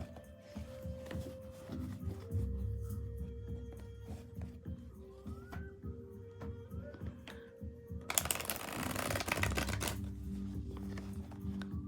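Tarot cards being shuffled by hand, a rapid papery riffling and clicking that runs throughout, building to a dense burst of card noise late on, with faint voice-like tones in the background.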